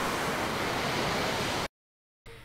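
Ocean surf washing onto a beach on a remote island in a film scene, a loud steady broadband wash that cuts abruptly to silence before a faint return.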